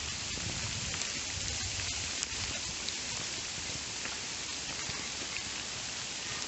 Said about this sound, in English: It's all small hailstones.